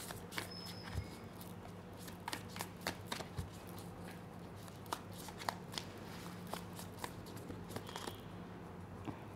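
Tarot cards are shuffled by hand in quiet, repeated bursts of soft riffling and tapping, fairly faint and close, with no talking.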